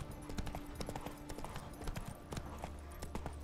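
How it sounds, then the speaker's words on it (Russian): A horse's hooves clop in a quick galloping rhythm as it runs uphill in the video game The Witcher 3, fairly faint and continuous, with no speech over it. "Но видите, как конь, короче, продолжает просто скакать прямо в гору."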